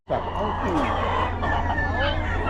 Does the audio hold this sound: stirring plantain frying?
no